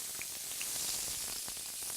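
Celery sizzling in hot olive oil in a pan, a steady dense hiss with faint crackles and pops throughout, close and fairly loud, no talking.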